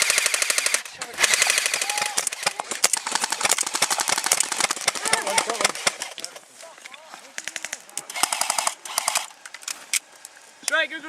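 Airsoft guns crackle in rapid bursts during an outdoor skirmish game, dense overlapping volleys of snappy shots that continue almost without pause, with shouting voices mixed in.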